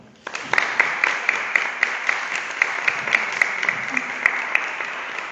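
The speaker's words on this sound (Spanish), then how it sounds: "Lo que sí pido un fuerte gran aplauso para Celia Colón" Applause for Celia Colom at a talk event, a crowd clapping steadily with distinct sharp individual claps popping out above the dense wash, sustained for several seconds.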